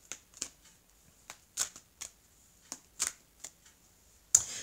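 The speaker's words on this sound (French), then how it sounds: "mélanger les cartes et puis on va recouvrir hein" Tarot cards are shuffled by hand in several short crisp riffling bursts with pauses between them, close up and with no talking.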